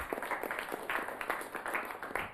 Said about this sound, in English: let's give our director a big round of applause.